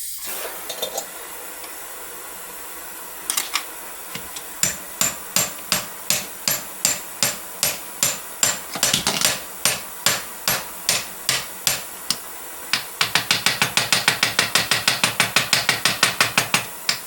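Hammer blows ring out on bright-heated metal set in a swage block held in a vise, struck in a steady series of sharp, loud strikes that speed into a rapid flurry near the end.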